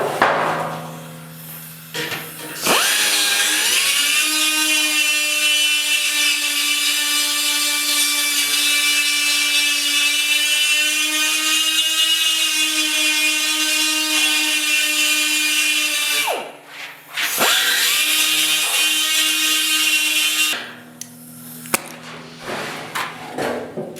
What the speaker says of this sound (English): I'm going to grind off the coating so we got a good surface to weld to